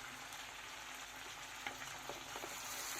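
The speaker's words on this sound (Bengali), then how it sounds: "পেঁয়াজ দিয়ে মাংসটা ভালো করে ভাজলাম, এবার টমেটো দিয়ে ভাজবো" Chicken frying with chopped onion in a pan, tomato about to go in, giving a steady broad sizzle with a few soft stirring clicks, fairly quiet and continuous with no talking.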